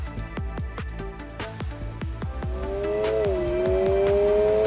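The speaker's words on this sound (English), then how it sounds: "Step shift control delivers rhythmic upshifts in acceleration and staged downshifts with precise blipping in deceleration." A Honda Prelude engine with S+ Shift revs in quick, evenly spaced pulses like rhythmic gear changes, then settles into one rising, sustained drone, close and loud.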